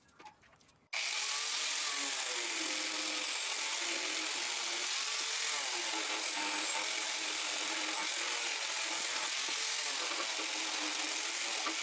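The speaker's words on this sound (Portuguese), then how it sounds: "vamos começar lixando essa peça aí" An inverted electric planer sands a wooden piece, grinding steadily after a brief quieter start, a continuous high whine with a rough, scraping edge throughout.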